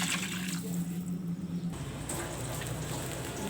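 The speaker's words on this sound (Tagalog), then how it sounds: "Lagyan ko na ng tubig" Water pours steadily into a cooking pot for soup with sardines, misua noodles, sponge gourd and egg, a continuous close splashing rush that shifts in tone partway through, with no talking.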